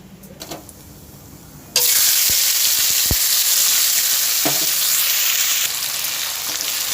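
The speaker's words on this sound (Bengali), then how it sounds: "এই মশলাটা এবারে আমি তেলের মধ্যে দিয়ে দেবো" A spice paste of chopped onion, tomato and grated ginger-garlic hits hot oil with a sudden loud sizzle that then keeps frying steadily, with a few light clinks just before, while cooking a katla fish-head chana dal.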